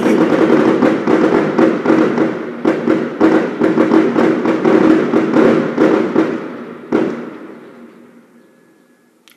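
Daytime fireworks crack off in a rapid, loud string of pops and bangs for about seven seconds, then one final sharp blast echoes and slowly fades into quiet.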